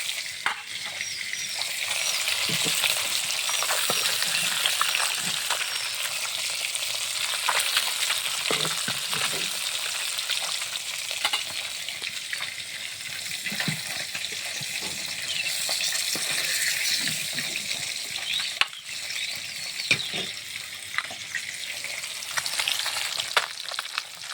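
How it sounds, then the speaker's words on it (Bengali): Fish pieces frying in oil in a pan for a fish curry, giving a continuous bright sizzle with occasional scrapes and stirring clatter, close and steady with no talk. "মাছগুলো সুন্দরভাবে ভাজা হয়ে গেছে।"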